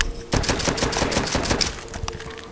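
Rapid automatic gunfire rattles at zombies in Call of Duty: World at War, a loud close burst of evenly spaced shots lasting over a second before fading into lighter clatter.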